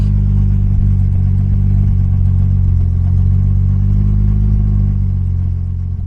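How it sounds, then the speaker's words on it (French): A Jaguar E-Type's six-cylinder engine runs with a deep, steady, loud rumble, holding an even note for several seconds before easing slightly at the end, no voices present. "6 cylindres qui a une sonorité absolument unique, à la fois comme un ronronnement, mais en même temps comme un gros chat sauvage"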